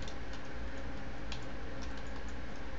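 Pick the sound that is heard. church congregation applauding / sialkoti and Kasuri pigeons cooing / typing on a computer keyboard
typing on a computer keyboard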